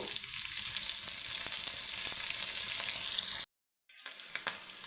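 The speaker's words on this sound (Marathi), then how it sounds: "आता गॅस परत चालू करून घ्यायचा आहे आणि मिरची थोडीशी परतवून घेऊ" Green chili pieces frying in ghee give a steady, bright sizzle that fills the pan. It breaks off into a short silence, then resumes at about the same level.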